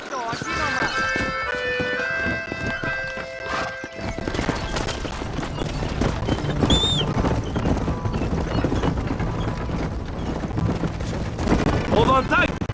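A horse gallops in the Western game Red Dead Redemption, hooves clip-clopping in a steady fast rhythm under ongoing speech, with whinnies, tonal music and other game sounds mixed in.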